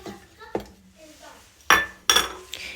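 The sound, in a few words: dried baheda fruit put into mixer grinder jar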